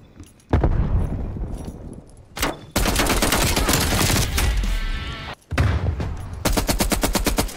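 Rapid automatic gunfire from the player's weapon in a first-person shooter video game, loud and close, in long sustained bursts broken by brief pauses, with no talking over it.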